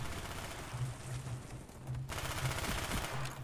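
Rapid automatic gunfire rattles steadily in Black Ops 1, a dense continuous burst of shots at moderate level, with a brief break before the firing resumes.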